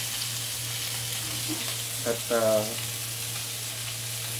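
Meat fries in a pan with a steady close sizzle and a low constant hum, broken by a short bubbling burst and a single brief spoken word.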